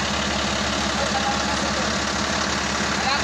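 A Foton Forward truck engine with a low-power fault idling steadily with a rough, knocking low rumble, close by and continuous throughout.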